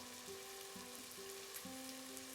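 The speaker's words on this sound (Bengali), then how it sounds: "আঁচটাকে মিডিয়ামে রেখে মশলাটাকে আমি কষিয়ে নিচ্ছি।" Spice paste with salt and a little water is stir-fried over medium heat in a pan for a potato-tomato rice dish, producing a soft, continuous sizzle. Faint tonal notes hum along in the background.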